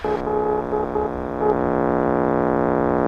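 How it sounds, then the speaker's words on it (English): An ADF navigation beacon ident signal heard through the radio in a Piper PA28 cockpit, a repeating tonal Morse-like beep sitting over a steady electrical hum and engine drone. "That's on the ADF, which is the beacon, and it sounds like this."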